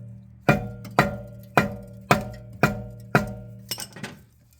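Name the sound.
tapping the brake caliper on a Jaguar XF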